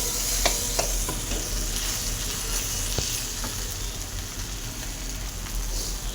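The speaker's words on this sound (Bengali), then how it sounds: "দিয়ে ভালো করে আমি নেড়ে দেবো" Food fries in a pan under a steady, loud sizzle while a utensil stirs it, adding a few faint scraping clicks close by.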